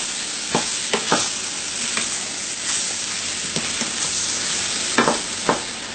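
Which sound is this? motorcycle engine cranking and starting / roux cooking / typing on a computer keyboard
roux cooking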